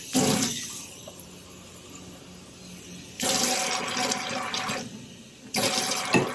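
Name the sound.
water filling a measuring cup for cake batter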